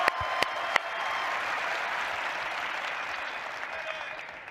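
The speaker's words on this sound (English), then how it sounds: "Give a round of applause to Mr. James Jones." A seated press conference audience applauds after an introduction at a Phoenix Suns introductory event. The clapping sounds moderately distant and steady, opens with a few sharp claps and fades slightly toward the end.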